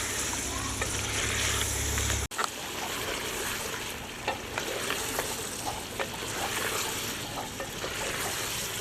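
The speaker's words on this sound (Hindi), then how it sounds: "चिकन को भूनते हुए पकाते हुए मुझे 6-7 मिनट हो गए हैं।" Boiled chicken fries with garam masala in a karahi, restaurant style: a steady close-up sizzle runs throughout with scraping stir strokes, cut by a brief break early on.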